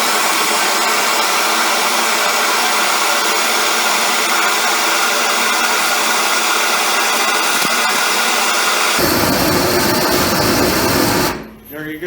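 A Hyper Torch Zeus air-assist torch roars loudly and continuously, a harsh steady blast that shifts to a deeper, rougher rumble near the end before cutting off abruptly.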